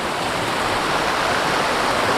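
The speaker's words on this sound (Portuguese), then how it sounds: "Agora, olha o riozinho que dá origem a isso. É bastante vazão de água" A small river in Urubici runs with strong flow, giving a steady, loud, broadband rush of water from start to finish with no pauses.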